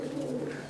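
Champion Madrasi pigeon cooing in a short, low, throaty burst heard up close and alone.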